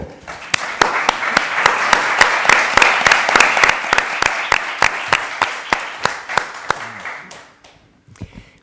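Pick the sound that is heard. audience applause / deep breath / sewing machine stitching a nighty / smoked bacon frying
audience applause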